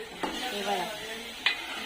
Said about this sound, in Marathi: चांगलं परतलं गेलंय वांग